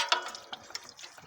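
Antifreeze coolant pours out of a 1997–2001 Toyota Camry 2.2 during a thermostat replacement, a short, close liquid splash with uneven spattering drips and no voices.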